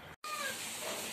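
A stray cat meows indoors, one drawn-out call close to the microphone right after a brief moment of silence, with no talking.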